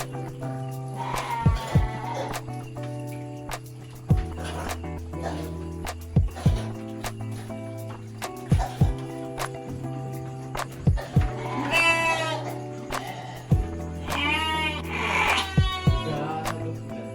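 Sheep in a pen bleat again and again, overlapping one another close by, with knocks and thuds from the enclosure under a steady hum.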